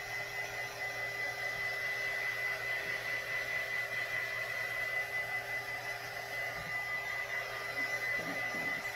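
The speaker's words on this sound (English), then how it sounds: "And then we'll heat tool it." A heat tool blows steadily on a painted, distressed picture frame, producing a faint, even whooshing hum with a high whine and no talk.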